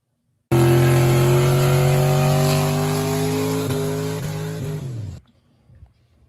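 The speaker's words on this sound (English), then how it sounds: "here's the challenge of burnouts for distance" A car doing a burnout for distance, with a loud, sustained engine roar that holds high revs for several seconds, then drops and cuts off abruptly, leaving faint background noise.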